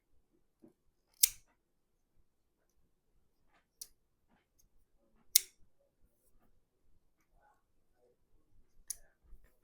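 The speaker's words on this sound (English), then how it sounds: "let's tighten these up" T6 screws being tightened on a Knafs Lander folding knife, a handful of sharp, isolated metallic clicks and ticks spaced a few seconds apart, close and quiet, with faint handling noise between.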